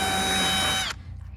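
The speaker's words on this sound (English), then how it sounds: "take the drill, make some holes" A power drill bores holes in a gutter, a loud steady whine with bright tonal harmonics that holds for most of a second and then stops abruptly, leaving a faint background.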